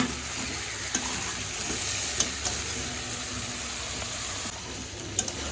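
Chicken cooking down with spices in a pan, a steady close sizzle of frying with a splash of water, broken by a few sharp scrapes of a spatula stirring. No one speaks.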